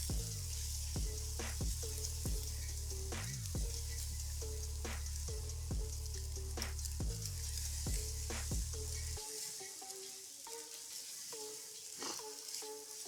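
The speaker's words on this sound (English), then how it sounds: "Alright, so just dump these in. Just scramble eggs." Scrambled eggs frying in a pan, a faint steady sizzle broken by regular scraping and tapping of a utensil, with a low hum that cuts out partway through.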